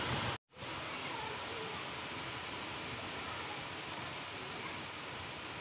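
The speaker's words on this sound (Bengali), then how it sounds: "প্রচণ্ড বৃষ্টি হচ্ছে শুনতে পাচ্ছ কি জানি না" Heavy rain falls at night as a soft, steady, even hiss, faint and continuous apart from a brief cut near the start.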